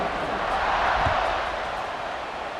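Stadium crowd noise in EA Sports College Football 26 during a fourth-quarter kickoff, a dense, continuous roar of many voices that stays loud and steady throughout.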